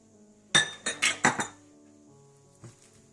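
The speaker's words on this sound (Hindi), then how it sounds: "हल्दी पाउडर, रेड कलर और तेल मिलाकर मिक्स कर लें।" Turmeric powder, red colouring and oil being mixed in a bowl for tandoori chicken, a few sharp clinks of a spoon against the bowl in quick succession, then one more light tap, close and clear with no talk.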